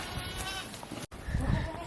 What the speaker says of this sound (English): They're a happy, healthy goat herd.